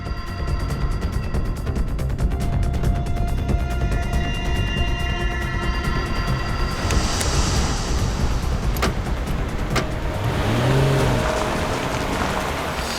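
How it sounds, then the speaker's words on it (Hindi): A car speeding up in a crime-drama chase scene: a continuous, loud engine and road roar that holds steady throughout, with a brief rising swell near the end. "इसने अचानक गाड़ी की स्पीड क्यों बढ़ा?"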